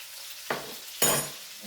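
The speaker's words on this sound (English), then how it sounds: "And as you see, it's just stirring it up, stirring it around." Sauce for chicken and shrimp pasta cooks in a pan on the stove, quiet until two sudden bursts of sizzle as it is stirred, each fading away over a moment.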